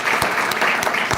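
Scattered hand claps from a small crowd at a community gathering, brief and sparse rather than full applause, with a few sharper individual claps standing out.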